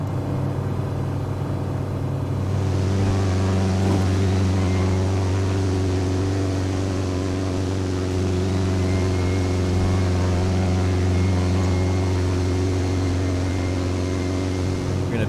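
The engine of a Piper PA-28R Arrow III in Microsoft Flight Simulator drones loud and steady as the plane climbs after takeoff, a constant propeller hum with a rough low rumble that persists for the whole passage.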